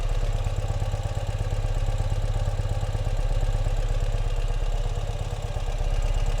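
The engine of a 2017 Ural cT motorcycle idles steadily indoors in a showroom, a loud, close, even low thrum with a rapid pulsing beat and light mechanical clatter, with no voices.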